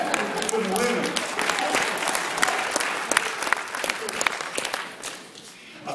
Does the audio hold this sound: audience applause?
yes